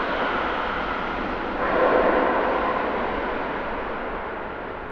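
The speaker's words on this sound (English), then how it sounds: "Another one lighting up the reversers. Beautifully noisy." An airliner landing at Heathrow with thrust reversers deployed gives a broad, heavy roar that swells briefly and then slowly fades, with no voices.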